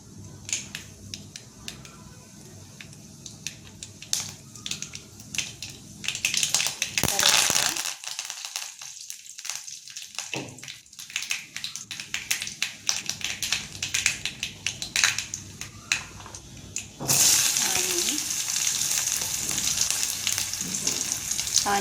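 Mustard seeds crackle and sizzle in hot oil in a home kitchen, bursts of sharp popping and spattering that come and go, with a quieter gap midway and a louder steady sizzle near the end, while someone talks over it.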